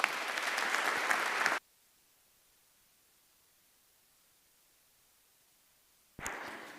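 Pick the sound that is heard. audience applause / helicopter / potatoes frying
audience applause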